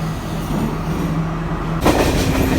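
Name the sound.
train arriving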